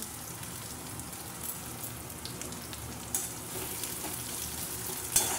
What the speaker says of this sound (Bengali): এবার আমি পেঁয়াজটা দিয়ে দিলাম, দিয়ে এবার ভালো করে লাল লাল করে ভেজে নেব।